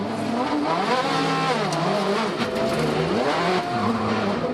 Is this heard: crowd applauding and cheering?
no